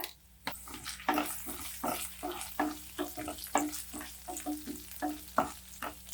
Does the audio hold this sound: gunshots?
no